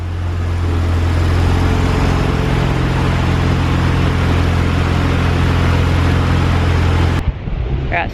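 Stock twin-turbo 13B rotary engine of a Mazda RX-7 idling steadily with a loud, even hum that cuts off abruptly near the end.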